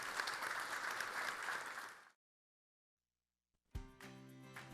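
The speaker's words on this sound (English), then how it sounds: "please join me in a big round of applause" An audience applauds the panelists at a Kansas City farm sustainability event: about two seconds of dense, steady clapping that cuts off abruptly into silence, followed by music.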